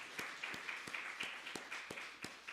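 A church congregation gives a round of applause at a Sunday service, heard as faint, distant, fairly regular claps roughly every third of a second over a soft hum.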